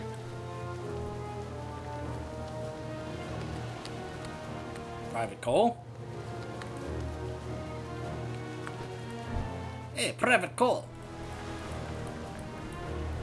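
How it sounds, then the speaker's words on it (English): Steady rainfall in the World of Warcraft starter zone Exile's Reach, a soft constant patter on a ship deck during a storm, continuing beneath game music and character voices that speak over it. "I hope this rain isn't a bad omen."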